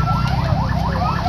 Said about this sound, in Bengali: একের পর এক অ্যাম্বুলেন্স কিন্তু আসতেই আছে